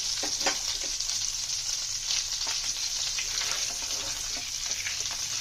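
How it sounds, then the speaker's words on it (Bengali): Whole garam masala of bay leaf, cardamom and cinnamon tempers in hot oil and ghee, giving a steady, loud, close frying hiss with faint crackles and pops throughout and no voices. "আমরা এখানে তেল আর ঘি দুটোই দিয়ে দিয়েছি একটু গরম হলেই গোটা গরম মশলাটা ফোড়ন দেবো"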